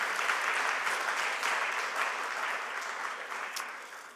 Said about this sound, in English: Yes, you can clap, because he will be watching this later.